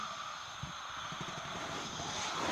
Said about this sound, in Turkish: uçak da bu arada çok hızlı gidiyor